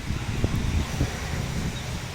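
Strong wind blowing outdoors, a steady rushing roar buffeting the microphone with a few faint rustles and knocks, continuous and fairly loud.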